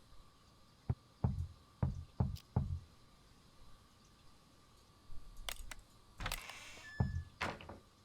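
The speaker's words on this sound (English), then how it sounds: "Who's that knocking?" Four quick knuckle knocks rap on a door in the video game Unheard, close and distinct, then scattered clicks and thumps follow in a quiet room.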